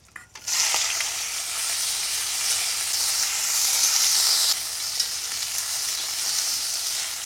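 Baby corn drops into hot oil with cumin seeds, starting a loud, close, continuous sizzle that stays strong for several seconds and then eases slightly.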